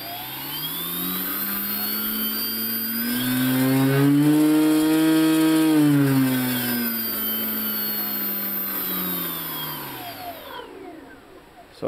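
A brushless electric motor on a test bench whines as it spins up, its pitch rising to a steady high hum, holding, then winding down before cutting off.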